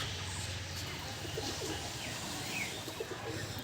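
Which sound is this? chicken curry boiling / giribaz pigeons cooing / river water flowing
giribaz pigeons cooing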